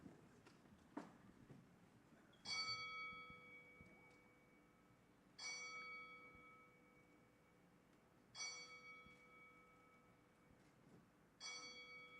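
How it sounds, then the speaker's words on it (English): Four tolls of a bell ring out, evenly spaced and faint, at a boxing press conference memorial ten-count in Los Angeles. Each strike is sharp, followed by a long ringing decay, over a quiet room. "we will toll the bell 10 times"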